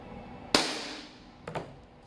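A WE Glock 18c Gen 4 airsoft gun fires through a chronograph: one sharp, close snapping pop followed about a second later by a softer, quick double click, with quiet room tone between.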